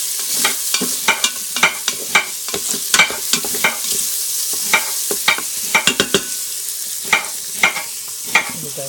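Bacon sizzles and crackles in an Instant Pot, with frequent sharp pops and stirring scrapes over a steady frying hiss.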